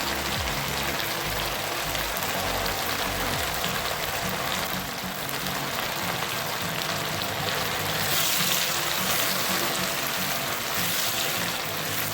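Mustard greens (sarson ka saag) hiss and sizzle in hot oil, a steady dense crackle that carries on throughout with no voices.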